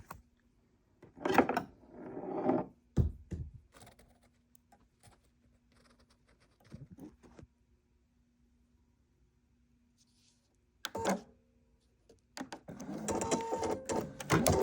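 An embroidery machine stitching on a towel runs in short, rapid mechanical bursts separated by long quiet pauses, with a faint steady hum between them, close and fairly soft, and a denser run of stitching toward the end.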